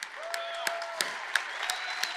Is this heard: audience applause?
yes